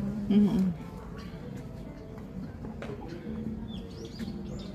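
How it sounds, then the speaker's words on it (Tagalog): Small birds chirp faintly and intermittently along a Seoul street in Jongno's Anguk area, thin high calls mixed into steady city noise while people talk nearby. "May mga ibon."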